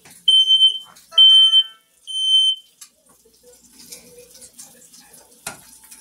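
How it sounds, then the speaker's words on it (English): A smoke alarm sets off by bacon frying for dinner gives three loud, shrill beeps in quick succession, followed by quieter kitchen clatter and faint background sounds. "Alarm went off."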